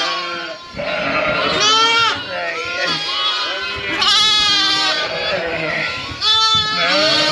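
Ewes bleat loudly and continuously at feeding time in a crowded flock, many overlapping wavering calls close by, with lambing-season farm voices mixed in.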